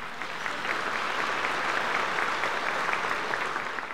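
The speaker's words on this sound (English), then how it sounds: "A round of applause, please." Sustained applause fills a Houston Hispanic Chamber of Commerce gathering, many hands clapping in a dense, even patter that holds steady for several seconds with no speech over it.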